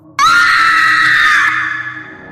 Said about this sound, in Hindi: जल का स्पर्श पाते ही मेघना बुरी तरह चिल्ला उठी।